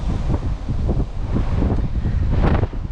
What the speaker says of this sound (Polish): Taki jest mocny dzisiaj wiatr. Niestety, później będę go czyścił. No naprawdę dziś mocno wieje.